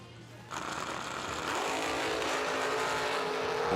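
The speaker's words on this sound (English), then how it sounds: "Jason Sizemore in the dragster." A dragster launches down the drag strip at a Summer Fling bracket race, its engine note swelling sharply after a short pause into a loud, sustained roar that holds steady and strong to the end.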